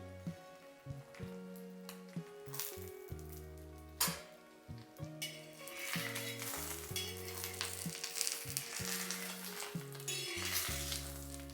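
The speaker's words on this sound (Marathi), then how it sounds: "यावर थोडंसं लाल तिखट आणि चवीनुसार थोडंसं मीठ घालून घ्यायचं आणि हे व्यवस्थित फ्राय करून घ्यायचे आहेत आपल्याला" An egg, tomato and onion mixture frying in a pan with red chili powder and salt; a soft, steady sizzle with occasional stirring scrapes sits under louder background music.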